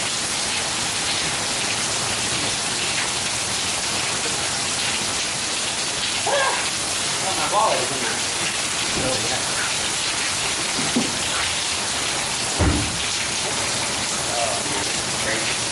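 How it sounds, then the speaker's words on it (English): Heavy, warm Florida rain pours steadily as a dense, constant hiss from start to finish, with a few brief voices talking underneath; no distinct thunder stands out. "When it rains in Florida, it really rains."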